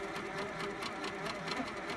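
A sewing machine stitching free-motion quilting runs in a quick, steady chatter of needle strokes, close and moderately quiet, with no voices over it.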